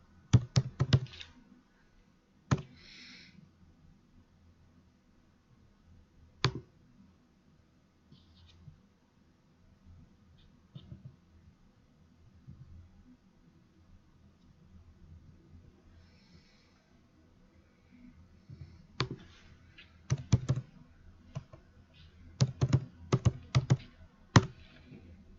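Keys on a computer keyboard clack in short, faint bursts of typing, with long quiet gaps between them and a denser flurry of taps near the end.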